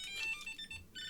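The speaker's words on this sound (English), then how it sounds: "You can hear the bleepers going off on that." A Silvercrest key finder tracker from Lidl emits high, thin electronic bleeps in quick bursts, fairly quiet and close, repeating with short gaps.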